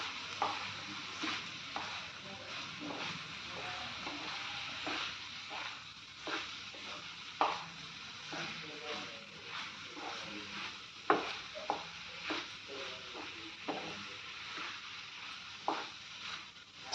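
Cauliflower fries slowly in a pan with a soft, continuous sizzle, punctuated by regular scraping and clinking stir strokes every second or so over a quiet background; no talking.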